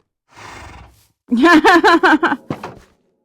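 A horse in the Minecraft video game snorts with a breathy exhale, then gives a loud wavering neigh and a short final snort, crisp and alone with no talk.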